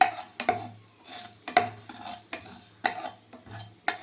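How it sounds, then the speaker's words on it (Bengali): Spices dry-roasting in a dry wok over a medium flame for a vegetable khichuri, with a spatula scraping and stirring in repeated bursts, one about every second, each short clatter of metal on metal close up. "এখন এই মশলাটা একটু ভেজে নিই শুকনো কড়াইতেই ভেজে নিতে হবে"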